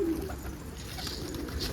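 A caught stray pigeon coos softly and low against steady background hiss, a brief murmuring call with no other voices.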